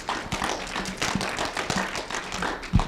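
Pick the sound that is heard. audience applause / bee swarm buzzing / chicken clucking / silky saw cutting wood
audience applause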